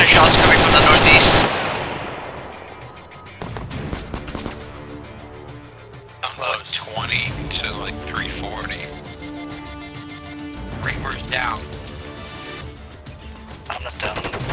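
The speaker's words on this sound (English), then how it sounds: "it looks like there's shots coming from the northeast" Gunshots ring out from the northeast: a loud rattling burst of rapid fire at the start, then scattered sharp shots later, with someone talking over the outdoor scene.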